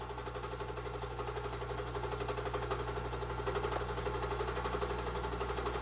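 An end mill surfacing an aluminum part on a manual milling machine, with a steady whirring hum of spindle and cutter running continuously at moderate level, with no voices.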